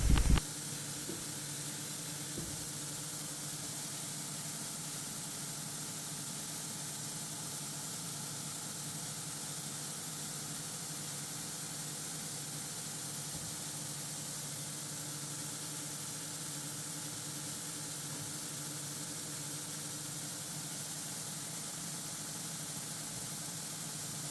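A Volkswagen T5 2.0 diesel cylinder head is washed with a continuous pressurized spray, a steady close hiss with an engine-like hum beneath, unbroken for the whole stretch with no talk.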